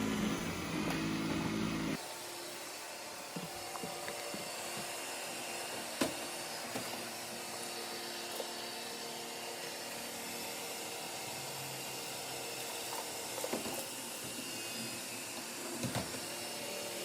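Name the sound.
Dreame W10 robot vacuum mop running and mopping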